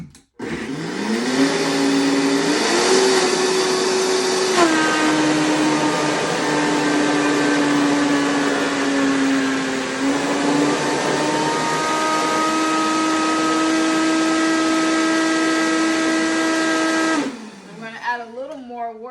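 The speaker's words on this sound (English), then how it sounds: "Just gonna go ahead and blend that." A blender runs continuously on a raw vegan cheesecake mixture, a loud steady motor whine that shifts pitch a few times as it churns, then cuts off near the end.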